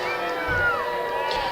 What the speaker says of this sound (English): The Boo Birds are out in the crowd.